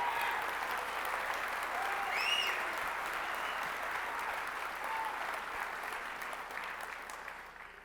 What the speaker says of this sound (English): Let's give you a round of applause for that.